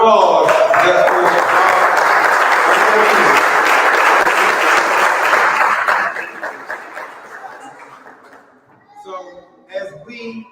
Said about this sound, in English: Can we give another round of applause just for